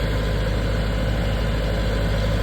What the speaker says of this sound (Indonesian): Kita running dulu ya kurang lebih sekitar 5 menit sampai mesinnya betul-betul stabil, solarnya mengalir.